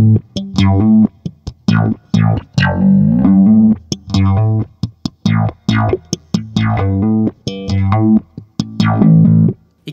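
Funky bass guitar notes in a steady rhythmic line, each note swept by a Soundblox Bass Envelope Filter pedal into a vowel-like wah with negative filter sweeps, loud and up close.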